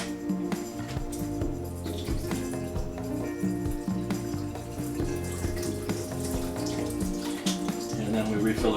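Cold tap water pours steadily into a Norwex water filter funnel, a continuous rushing splash at moderate level with no break.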